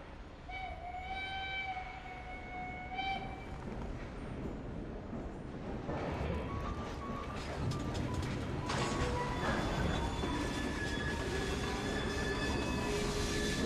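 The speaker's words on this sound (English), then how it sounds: "We fixed up the train for you" A steam train in the Assassin's Creed Syndicate video game set in Victorian London rumbles and clatters steadily with rising loudness, while sustained whistle tones sound at intervals above the rolling wheels.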